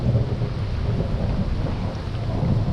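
Low, rolling thunder rumbles continuously beneath steady rain, a deep heavy roar without pauses.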